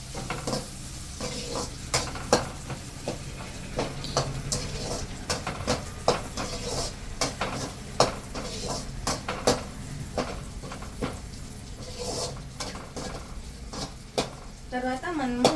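Garlic and oil being stirred and fried in a pan for gongura pickle, with repeated sharp spoon scrapes and clinks against the pan over a steady sizzle, close and continuous.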